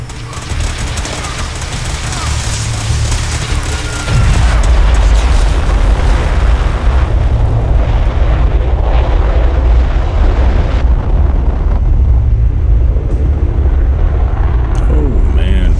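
Weapon test-firing explosions in Fallout 4: loud, continuous booming blasts that build after a few seconds and rumble on heavily, with a voice speaking over them.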